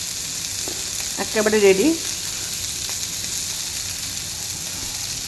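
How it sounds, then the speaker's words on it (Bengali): Chicken sizzles steadily in a frying pan for a chicken tikka batter masala, a continuous hiss running throughout, while a voice speaks briefly near the start. "আমি এটা ভালো করে ভেজে নিচ্ছি"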